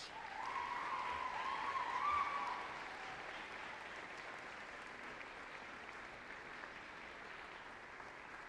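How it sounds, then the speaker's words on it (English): At a university convocation ceremony, graduates applaud their families and mentors with a sustained wash of clapping from a large room. It is a little louder at first, then settles into an even, continuous patter. "giving them a huge round of applause"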